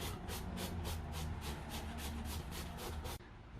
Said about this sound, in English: Up, you're gonna do the same thing with the level 2 sanding pad.